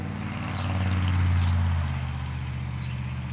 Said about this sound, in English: nice exhaust on his truck.